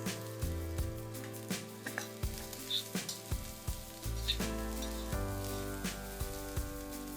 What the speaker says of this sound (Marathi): यामध्ये 1 मोठा असा कांदा तेलावर भाजून घ्यायचा आहे थोडा रंग बदलेपर्यंत.